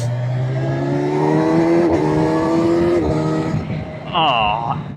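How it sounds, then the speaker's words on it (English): Kawasaki Versys 1100 SE adventure motorcycle with an inline-four engine, revving steadily and loudly close by with rising and falling pitch, ending in a brief higher whine. "Kawasaki inline 4s are very, very hard to beat"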